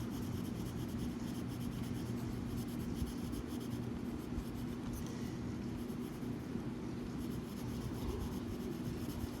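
A graphite pencil scratches steadily across paper while drawing Zentangle patterns, a continuous close, soft rasping texture over a low steady hum, with no talking.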